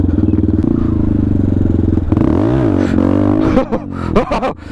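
Benelli TNT 125 motorcycle engine running hard during a wheelie, a close, loud pulsing drone that rises and falls in pitch, then breaks into rattling and wind buffeting near the end.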